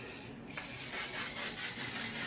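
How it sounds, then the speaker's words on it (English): A quiet moment, then a sudden sustained hiss of mattifying setting spray misting continuously over a face at close range. "And then right over it, one size Until Dawn Mattifying Waterproof Setting Spray."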